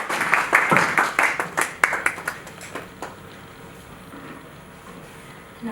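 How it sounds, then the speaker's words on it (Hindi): An audience claps at a Hindi poetry recitation competition in Delhi, brisk uneven applause that is loud at first, then thins out and fades to room noise. "कृपया तालियां बजाते रहें"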